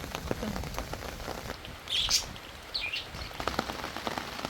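Steady early-morning rain falls outdoors over a home vegetable garden, a dense continuous patter on nearby surfaces, with a brief bird chirp rising above it midway.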